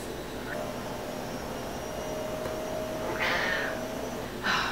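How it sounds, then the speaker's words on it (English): Two loud, drawn-out cat meows sound near the end, close and alone over a steady low background hum. "I have the loudest cat ever in the world."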